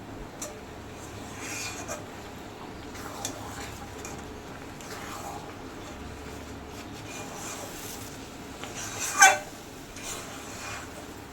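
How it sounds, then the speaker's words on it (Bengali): A thick mango malai borfi mixture of milk and sugar is stirred steadily in a pan, making soft, quiet scraping sounds, with one sharper clink of utensil on metal near the end. "এটাকে কনস্ট্যান্ট এরকম নাড়বো"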